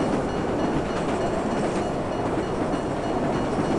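Train moving in the video game Marc Ecko's Getting Up, a steady rumbling rail roar with faint clickety-clack rolling continuously at close range with no talk over it.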